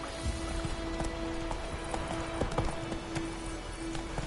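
Roach, a horse in The Witcher 3, gallops with rapid, rhythmic hoof clip-clops over a steady ambient bed, joined by a faint tonal hum.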